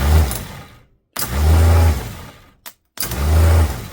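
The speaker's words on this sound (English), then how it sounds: "There's nothing wrong with that starter motor" Starter motor on an old grey Ferguson tractor cranks in three separate bursts, each a close, loud churning whir lasting about a second, with short silent gaps between them.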